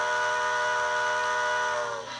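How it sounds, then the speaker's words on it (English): A Bachmann Echo Valley Express model train's DCC sound unit gives one long steam whistle, a steady, loud harmonic tone that holds for about two seconds and then cuts off. "long whistle"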